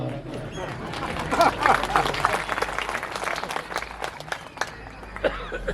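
An audience at a Shrimad Bhagwat Katha religious discourse claps in a burst of dense applause that peaks and then thins into scattered claps, with voices murmuring throughout.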